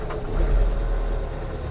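A Scout 404 tractor pulling an Unia 2/30 plough in autumn field ploughing gives a steady low engine rumble, close and continuous without speech.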